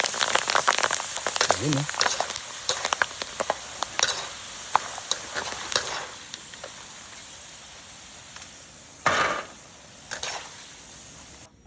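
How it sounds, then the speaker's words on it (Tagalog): Shell macaroni chicharon frying in hot oil, a steady crackling sizzle with stirring clinks throughout, a short spoken remark near the start and a louder bubbling burst toward the end. "Mabilis na po yung pagprito nito."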